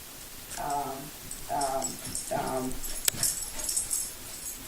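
A small dog whimpers three times in short, rising whines, fairly close, with light rustling and a click between them.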